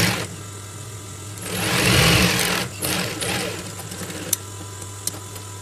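Sewing machine stitching the two-layer lining fabric of a newsboy flat cap, a continuous close whirring run that swells in the middle, with a few sharp clicks toward the end.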